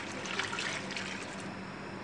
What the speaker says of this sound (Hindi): अब इसमें मैं ये पानी डालूँगी